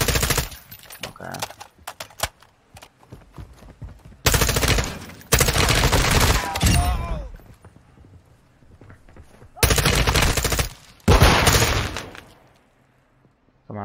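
Bursts of automatic gunfire fired through windows in Call of Duty MW2 DMZ, loud rapid volleys in several separate stretches with brief gaps and quieter shots between.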